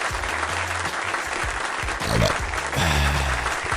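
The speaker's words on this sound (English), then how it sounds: "I'm not seeing enough applause for Ralphie here" Applause and cheering play on a live futures day-trading stream, a dense crackle of clapping, with a voice talking over it.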